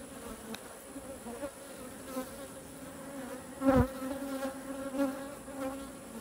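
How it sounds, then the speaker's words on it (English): A steady hum of honeybees buzzing close by as they drink sugar water, with one louder bee passing near midway. "Look at the bees drinking."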